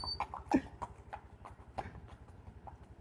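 A walking mare's hooves clip-clop at a steady, unhurried pace, with spaced strikes that sound fairly faint and a little distant over quiet surroundings.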